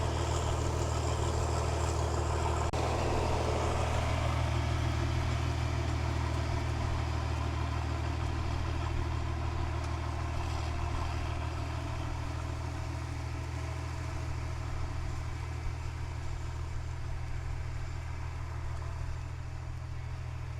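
A tractor drones steadily as it pulls a plow through a field, its engine a constant low hum that stays even for about twenty seconds, with a brief louder rustle near the start.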